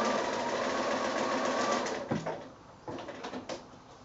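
Sewing machine stitching quilted fabric squares for a small drawstring bag, a steady whirring run for about two seconds, then a couple of short bursts of stitching, fairly quiet and close.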